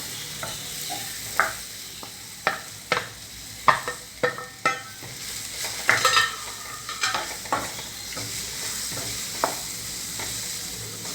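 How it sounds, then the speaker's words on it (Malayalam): A spoon repeatedly scrapes and knocks through chopped ripe nendran banana and coconut in a pan, producing a steady run of sharp stirring strokes over a soft, constant frying hiss, close by with no voices. "നന്നായി ഒന്ന് മിക്സ് ചെയ്ത് കൊടുക്കാം."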